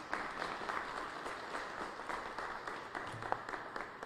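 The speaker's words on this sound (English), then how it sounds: "please give a round of applause for County Executive David Crowley" An audience at an International Overdose Awareness Day event in Milwaukee applauds County Executive David Crowley, a continuous, fairly distant wash of many hands clapping with a few sharper claps standing out.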